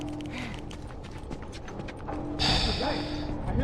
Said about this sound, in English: Hey, I hear the fucking horse behind you.